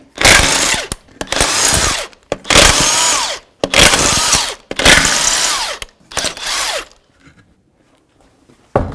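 A pneumatic impact wrench or power tool zips lug nuts off the front wheel of a Jeep Cherokee (1984-2001) in six loud, close bursts, each about a second long, separated by brief pauses, then quiet at the end.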